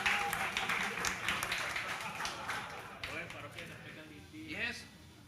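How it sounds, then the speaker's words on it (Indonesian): Audience applause, a quiet patter of scattered clapping with voices talking over it, fading gradually toward the end. "Tepuk tangan untuk motif ganja."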